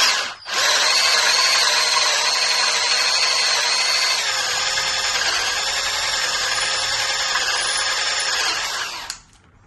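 A power drill runs steadily at high speed for about nine seconds, close and loud, its whine shifting slightly partway through before it stops.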